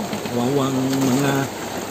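Steady rain falls on a fishing ship at sea during night squid catching, a constant broadband hiss. A voice sounds over the rain for most of the clip.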